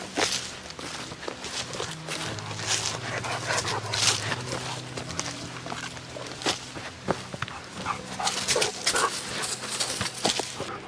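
A dog moves around close by at an outdoor log cabin building site, with soft whimpering, panting and scuffling footsteps on the ground, and no talk.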